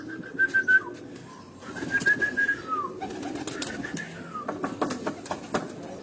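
Pigeons on a Rawalpindi rooftop give soft, repeated cooing calls against a busy background of other birdsong and outdoor noise, fairly near, with a few brief chirps and wing sounds.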